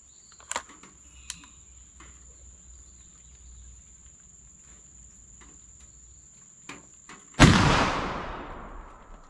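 A black powder gun loaded with 2F powder fires one loud, sharp blast that rings out and decays over about two seconds, after a long stretch of quiet outdoor ambience with steady insect chirping and a few small knocks.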